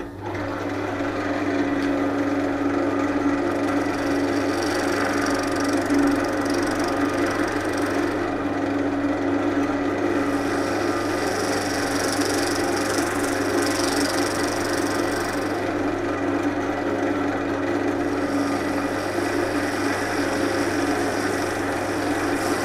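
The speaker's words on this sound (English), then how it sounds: "my first job will be to true up this, and I'm just going to use my Ashley Isles bowl gouge" An Ashley Isles bowl gouge trues up a glued wooden blank spinning on a lathe, a steady whirring hum with continuous scraping and cutting noise that swells and eases over about twenty seconds.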